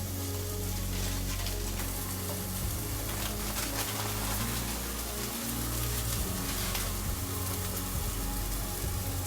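Red hot chilies sizzle in a stir-fry pan with chicken and beef, a steady dense hiss and crackle that runs unbroken throughout under a low background hum.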